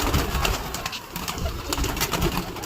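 Young pigeons released from a loft, a brief burst of close cooing and fluttering wing flaps over low rustling.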